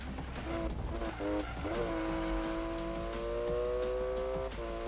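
A car in the Need For Speed video game power-slides through a turn, its tires squealing in rising and sustained tones over a steady engine roar.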